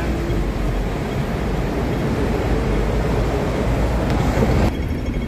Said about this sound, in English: There's another tram coming.